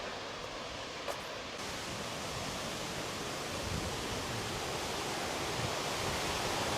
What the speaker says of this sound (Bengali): আপনারাও অনুভব করুন এই প্রকৃতি, পানির সাউন্ড।